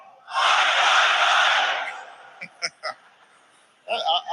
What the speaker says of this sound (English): I know that you all have a great Australian cheer